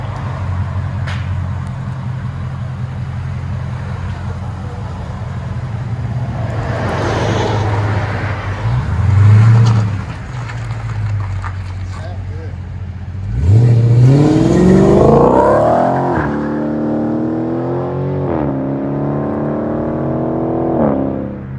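Dodge Charger Scat Pack with a 6.4-liter HEMI V8 and catalytic converters, its exhaust rumbling at idle and then roaring through two strong revs, loud and close.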